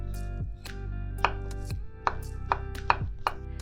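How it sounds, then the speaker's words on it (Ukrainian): A knife chops fresh mushrooms into cubes on a cutting board, a steady run of sharp, close knocks about every third of a second over a constant low background hum. "Грибочки нарізаємо кубиками."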